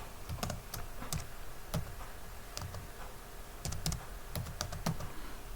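Someone types a folder name on a computer keyboard, a close series of irregular key clicks with short pauses between bursts, no one speaking.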